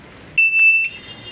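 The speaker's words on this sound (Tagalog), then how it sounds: "i-testing natin kung tumutunog ba talaga yung relay na ito" Car signal light relay gives a short, loud electronic buzz lasting about half a second, close up, with a faint hum before and after.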